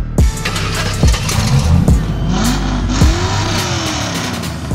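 A Chevrolet Corvette's 5.7-litre L98 V8 with a straight-through exhaust and no mufflers revs several times up close, each blip rising sharply and falling back over a loud, rumbling idle.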